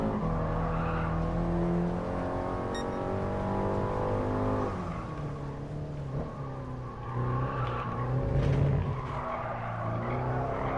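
A race car in the driving game GT Sport revs hard and skids with tire squeal, the engine note climbing and shifting steadily with loud, continuous screeching and no talk.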